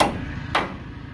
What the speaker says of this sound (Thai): บันไดตอกแล้วพี่น้องบัดนี้